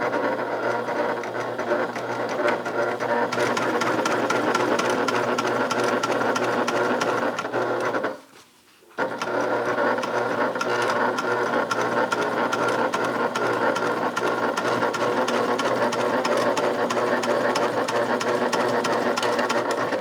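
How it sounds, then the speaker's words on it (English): A sewing machine runs a steady, loud stretch of top stitching along the side piece of a bag, pausing briefly once before resuming its continuous whir, with no talking. "we are going to top stitch on the side piece"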